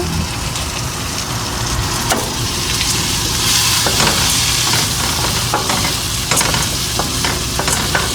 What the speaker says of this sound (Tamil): எல்லாத்தையும் போட்டுட்டு கொஞ்சம் அப்படி தாளிக்க வேணும்